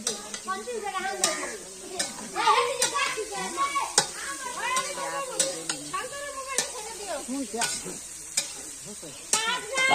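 Potato-cauliflower dalna fries with a steady sizzle while a spoon stirs and scrapes the pan in a village kitchen, with children's voices and chatter in the background.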